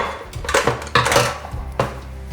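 A Philips Digital TurboStar airfryer basket handled and slid into place, a few close, loud clattering knocks and scrapes of the basket against the unit, no talk.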